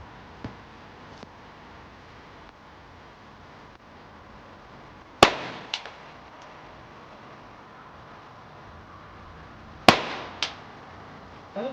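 A Browning 10/22 rifle fires reloaded ammunition at a shooting range. Two sharp, loud shots about five seconds apart crack over a quiet background, each followed by a short, fading echo.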